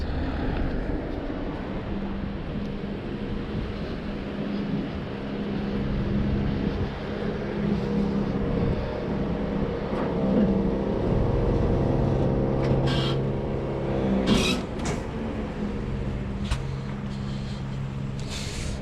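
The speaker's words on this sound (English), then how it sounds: "I'm going to leave the car running for a little minute in case I need to make any adjustments." A car engine left running while idling, a steady low rumbling drone that continues unbroken throughout, with some faint higher clatter toward the end and no talking.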